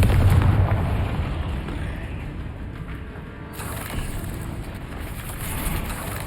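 A Confringo explosive curse goes off in Hogwarts Legacy, a sustained booming blast with a rumbling, crackling tail that dips in the middle and then swells back, fairly loud with no talking over it.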